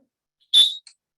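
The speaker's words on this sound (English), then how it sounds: "Whistle comes out of your mouth" A single sharp, shrill referee whistle blast, short and clear, followed by a tiny faint chirp, alone in silence.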